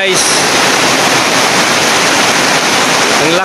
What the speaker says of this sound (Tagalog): ang kanal medyo, yung maliit na kanal namin mga guys, so umapaw na.